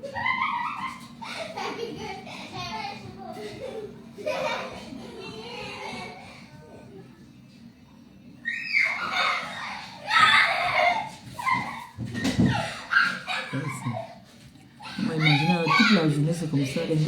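Young boys shout, shriek and play noisily indoors in place of a nap, their overlapping voices rising into bursts of screaming, with near and louder outbursts toward the end.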